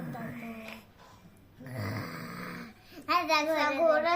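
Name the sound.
voice imitating a wolf snoring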